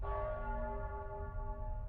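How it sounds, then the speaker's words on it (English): Church bells ring out with sustained, overlapping tones in the Nostradamus video game, a steady resonant peal that fills the whole moment without any talk. "The bells."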